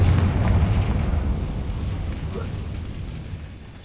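A Confringo spell goes off in Hogwarts Legacy with a loud, booming, low explosion that slowly dies away into a long rumbling tail.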